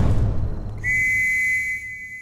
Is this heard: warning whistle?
yes